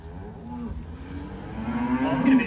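Cattle mooing as they are fetched in from wet grass to be loaded onto a trailer, a drawn-out low moo swelling louder toward the end over a faint background.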